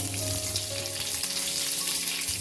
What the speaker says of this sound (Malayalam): നെയ്യിൽ കടുക് വറുത്തു ചേർത്തു.